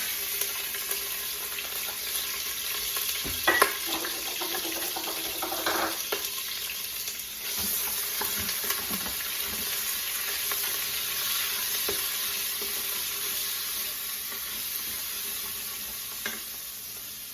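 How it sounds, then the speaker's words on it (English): Pork frying in a little oil in a pan gives a steady, close sizzle throughout, with a few brief clinks and stirring noises near the start. "I got a little bit of oil here, just enough to season it. And I'm going to put the pork in there."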